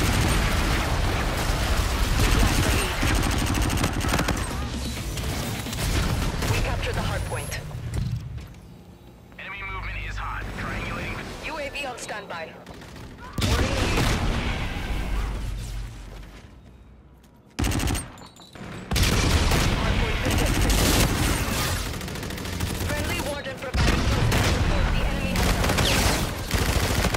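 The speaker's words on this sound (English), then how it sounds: "Bombardment incoming." Artillery bombardment and rapid gunfire fill a Call of Duty: Infinite Warfare hardpoint match, with loud, dense explosions and automatic bursts nearly continuous throughout and a brief lull midway.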